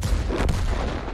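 Loud, close artillery fire from a tank game, dominated by a heavy low rumbling boom with a sharp crack in the middle, over one short burst.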